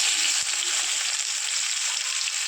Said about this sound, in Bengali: পেঁয়াজটা আমি ভেজে নেবো একটু লাল লাল করে।